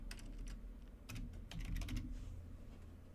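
Quick bursts of clacking keystrokes on a computer keyboard, close and fairly quiet, clustered in uneven runs as a short image prompt is typed.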